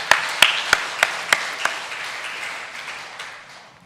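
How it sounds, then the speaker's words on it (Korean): Church congregation at a revival meeting clapping in praise, a few sharp claps ringing out in steady rhythm before fading into a softer, diffuse patter of hands. "하나님께 영광의 박수 올리며"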